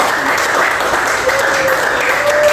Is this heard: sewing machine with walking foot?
no